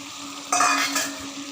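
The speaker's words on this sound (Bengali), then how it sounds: "এখন দিয়ে দেব আলু ভাজিগুলো" Fried potatoes tipped into a pot of simmering banana-flower curry set off a sudden burst of sizzling and stirring, loud and close, with a second surge before it eases back to a low simmer.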